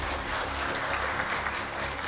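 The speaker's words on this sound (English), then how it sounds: "Can you give a round of applause again?" A crowd applauds at the ICBC and Quantum Metal signing ceremony, a dense, steady wash of many hands clapping together for about two seconds with no talking over it.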